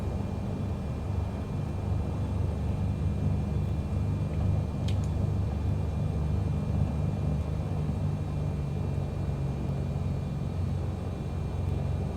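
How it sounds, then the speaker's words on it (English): A light airplane taxiing on the runway, a steady low engine and propeller drone heard from inside the cabin, continuous and fairly loud with no break. "as we taxi down here, I'm gonna go ahead and set flaps"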